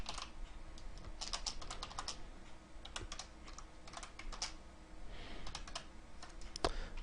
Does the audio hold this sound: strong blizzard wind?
no